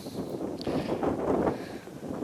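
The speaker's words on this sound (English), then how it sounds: "It is a little windy, so I'm standing behind the trailer right now." Gusty wind buffets the microphone with a low, uneven rumble that swells and fades over a couple of seconds; nobody speaks.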